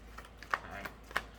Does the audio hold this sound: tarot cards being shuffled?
yes